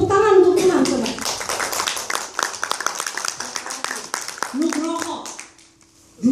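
A church congregation claps together in a burst of quick, dense hand claps that fade toward the end, with voices briefly over the start and the close.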